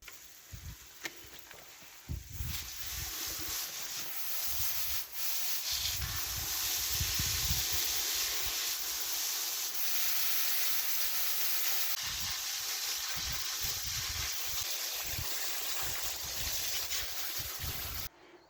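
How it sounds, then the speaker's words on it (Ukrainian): Water splashing and hissing continuously as freshly dug red and pink roots are rinsed under running water, with intermittent sloshing thumps. "Зараз вимою водою їх."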